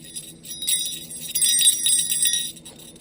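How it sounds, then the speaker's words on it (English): A small metal Polar Express bell engraved with the train's name rings in a bright, sustained jingle, shaken a few times close by in a quiet room. "Here's the bell."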